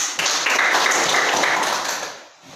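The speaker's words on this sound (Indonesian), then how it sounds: "Tepuk tangan." A group applauds for a couple of seconds, hands clapping in a dense steady burst close by that tapers off, with no talking over it.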